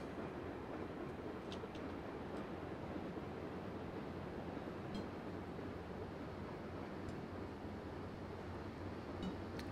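A BNSF ES44 diesel locomotive pulling a long freight train on Marias Pass in Train Simulator 2016 gives a steady, continuous rumble and rolling hum. The sound stays even and moderately loud throughout, with no talk over it.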